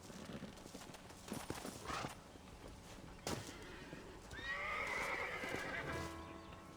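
In the Red Dead Redemption video game, a horse on a ranch by a stable gives a loud neigh over clip-clopping hooves, with a few sharp knocks earlier and faint background ambience.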